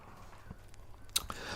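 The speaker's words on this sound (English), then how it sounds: "the youngest reindeer was crunching so loudly" A reindeer crunching on a large carrot, heard as a few soft, close chewing and biting crunches with one sharper crisp snap near the end, faint against quiet background.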